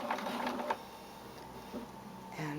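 A sewing machine stitching fabric for a face mask, giving a short run of quick mechanical whirring and clicking, then easing into quiet mechanical creaks, close and moderately soft with no talk.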